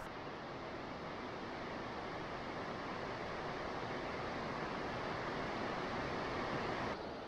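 Constant broad rushing roar of the Dudh Koshi river on the Everest trek in Nepal, steady and fairly loud with no talk over it.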